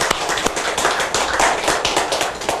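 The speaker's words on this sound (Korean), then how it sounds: "이럴 때는 한번 박수 좀 쳐주시는 겁니다" A church congregation applauds a longtime member, dense rapid clapping from many hands, loud and sustained with no talk over it.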